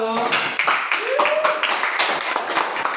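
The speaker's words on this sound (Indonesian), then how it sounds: "Tepuk tangan untuk kelompok 1." Fifth-grade students in a science classroom clap for a student group, a quick burst of hand claps under children's voices and chatter, fairly close and loud.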